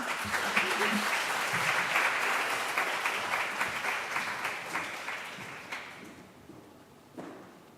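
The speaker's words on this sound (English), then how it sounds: "Can we give them another round of applause?" Students clap for a presentation, the dense applause fading gradually over several seconds into a few scattered claps and a late thump.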